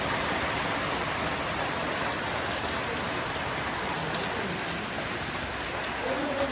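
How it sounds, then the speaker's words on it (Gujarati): Heavy rain pours steadily onto a village street, a dense continuous hiss of drops hitting the ground, close and loud throughout with no pauses. "સારી કેટલો વરસાદ જામી ગયો છે"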